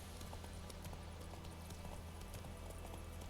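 Horse hooves clip-clopping in The Witcher 3 video game, a steady run of quiet rhythmic hoof beats over low ambient game noise, faint and continuous with no talk.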